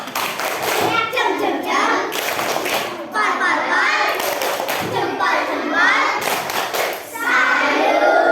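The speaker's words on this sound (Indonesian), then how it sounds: "Tepuk salut." A classroom of children does a patterned salute clap in unison, loud repeated bursts of hand claps and thumps in a set rhythm, mixed with children's chanting voices.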